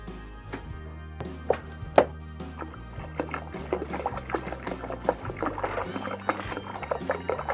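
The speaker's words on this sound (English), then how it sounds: "I'm going to have to add some water because I need at least an inch of water above the lid" Water poured into a canning pot over jars for waterbath canning makes a splashing, gurgling fill with uneven bursts and a few louder splashes, close by.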